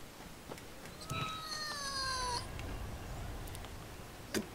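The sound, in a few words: pet cat meowing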